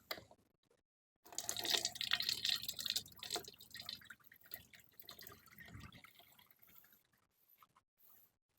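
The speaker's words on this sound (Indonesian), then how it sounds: "Akan kita nyalakan bersama dan kita lihat manakah yang paling cepat mengisi akuarium 30 cm ini." Several aquarium pumps run together, pouring water into a 30 cm aquarium. The sound is a close, splashing, bubbling stream that starts suddenly and then thins out into scattered drips.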